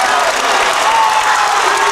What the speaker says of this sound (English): Marshfield fans come to their feet applauding the long distance range of Brooks Hinson